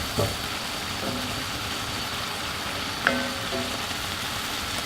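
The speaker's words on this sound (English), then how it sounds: "Now we're going to let this sit in there and sizzle for a little while." Brussels sprouts sizzle steadily in hot bacon grease, a constant crackling hiss with a few louder pops and clinks.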